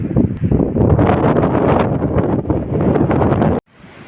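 Loud, blustery wind roaring across an open field and buffeting the microphone for several seconds, then cutting off abruptly to a quieter hiss.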